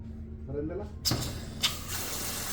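Water rushing from a kitchen pull-down sprayer faucet, switching on suddenly with a hiss and a brief change in spray partway, steady and close after a quiet room with a faint voice before.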